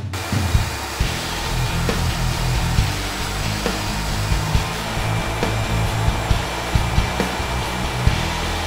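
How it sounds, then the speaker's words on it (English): A steady, loud motorized whine of a vacuum cleaner runs throughout, with scattered clicks and knocks of debris being sucked up from a truck. "I'm going to get my vacuum cleaner and clean this mess out"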